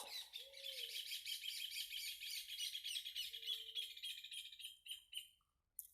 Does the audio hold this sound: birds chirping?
yes